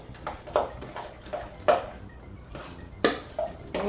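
Guacamole being stirred after cilantro and green onions go in: a spoon scrapes and clinks against the bowl in a series of short, close, irregular strokes.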